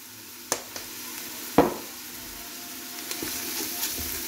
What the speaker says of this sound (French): Voilà, on mélange bien pour que toute cette préparation s'infuse de tous ces bons épices.